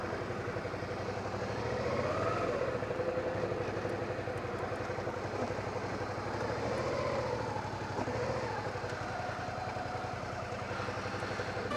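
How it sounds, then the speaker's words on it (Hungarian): A motorcycle engine running nearby on a hot summer day near Lake Balaton, a steady low rumbling drone throughout at moderate level with no talk over it. "Itt van egy motoros."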